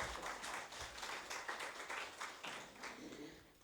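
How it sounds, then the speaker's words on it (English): A small audience at a press conference claps quietly for a few seconds, with irregular, soft hand claps heard from a distance. "You can clap hands."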